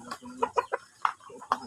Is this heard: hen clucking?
yes